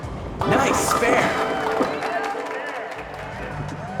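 Crowd cheering and clapping from an in-game audience in Wii Sports bowling after a spare, a broad, steady swell of cheers lasting a few seconds with some speech-like noise mixed in.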